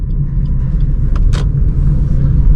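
A car on a road in fourth gear, braking and shifting down to third while overtaking, gives a steady close engine rumble and road roar with a brief faint click partway through.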